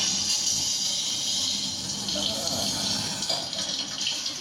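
Steady rushing water runs throughout, like a shower spraying nearby, with a few faint splashes shifting in the stream.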